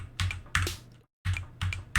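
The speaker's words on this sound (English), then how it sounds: "each letter corresponds to a key on your keyboard you can press to also play the sound" Computer keyboard keys pressed to trigger drum sounds in a browser drum kit, giving several crisp taps in a quick uneven rhythm with a short silent gap, close and clear with no talking.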